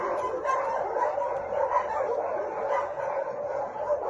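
A cluster of high-pitched yips and barks from several kitten-sized puppies, overlapping continuously at moderate volume.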